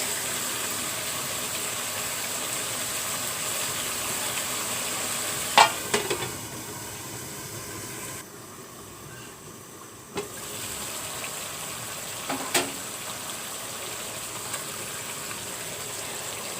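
Qurbani meat curry sizzling and being stirred in a pan, a steady frying hiss with a few sharp utensil knocks, a brief quieter stretch in the middle, close and fairly even.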